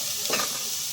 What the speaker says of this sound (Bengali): মোচার সঙ্গে মশলাটা ভালো করে কষিয়ে নেব।